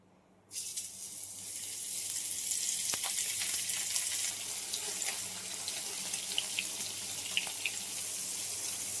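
Semolina-coated mackerel (bangda) fish fry in hot oil, a steady bright hiss and crackle that starts abruptly and holds at an even level throughout, close and without talk.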